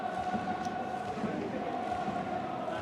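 Stadium crowd at Edion Peace Wing Stadium before a pre-season friendly football match, a distant steady murmur of many voices with faint chanting, sustained and fairly quiet throughout.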